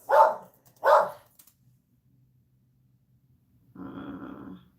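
Two sharp, close dog barks come in quick succession, then a pause and a low, rumbling growl from the same dog indoors.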